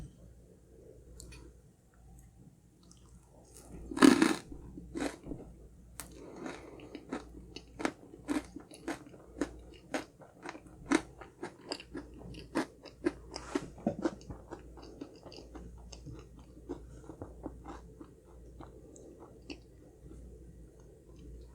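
Crunchy Red Ribbon Honey Crunch Cake being bitten and chewed close to the mic, a sharp bite near the start followed by a quiet, irregular series of crisp crunches and clicks.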